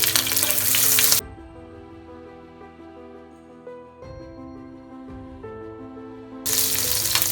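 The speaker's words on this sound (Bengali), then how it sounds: "এই সরিষার তেলটার মধ্যে আমি মাছের তেলটা দিয়ে দেব।" Fish oil fries in mustard oil in a frying pan, a loud dense sizzle at the start and again at the end, with a stretch of tonal music filling the middle.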